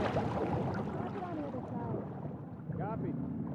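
A boat engine rumbles steadily at a marina in The Last of Us Part II, a dense low churn mixed with wind and water, while voices talk over it.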